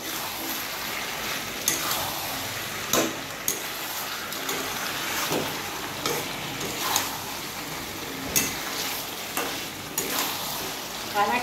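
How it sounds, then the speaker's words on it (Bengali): Chicken and potato pieces are stirred with salt in a hot pan for Kolkata-style chicken kosha, giving a steady sizzle with repeated scraping strokes of the spoon, close and moderately loud. "নুনটা এবার আমি ভালো করে মিশিয়ে নেব চিকেন আর আলুর সঙ্গে"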